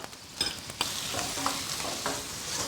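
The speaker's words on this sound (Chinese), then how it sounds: "另起锅来一点油，下五花肉" Pork belly sizzles in hot oil in a wok, a close, steady frying hiss punctuated by a few sharp clinks and scrapes of the spatula, with no voices.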